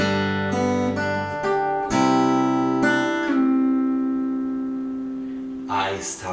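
Fingerstyle acoustic guitar playing one measure of a pop song: a handful of plucked notes and chords ringing out over a low bass note, close and clear, fading at the end before a brief breath-like noise.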